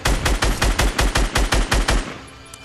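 Rapid automatic gunfire in Fortnite Battle Royale squads: about a dozen loud, evenly spaced shots in a fast burst, then a quick fade to quiet.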